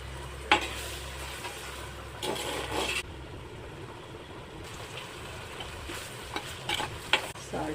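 Eggs fry in oil for egg biryani, a continuous close sizzle with scraping and stirring sounds over it and a few sharp knocks from a utensil against the pan.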